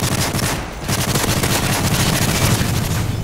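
Rapid automatic gunfire from Call of Duty: Modern Warfare 3 multiplayer rattles in dense bursts, loud and nearly continuous with a brief lull, and no talk.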